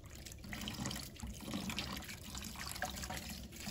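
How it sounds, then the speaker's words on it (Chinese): Tap water runs steadily over chopped chicken feet in a basin as they are rinsed clean, a soft continuous splashing and gurgle heard close but fairly quiet, without speech. "用流动水把它清洗干净，把里面的血水清洗一下。"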